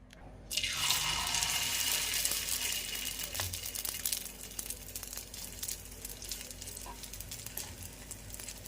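Moong dal appe batter hits a hot oiled appe pan, setting off a loud, broadband sizzle and crackle that starts abruptly and keeps hissing steadily, with faint drips and pops throughout.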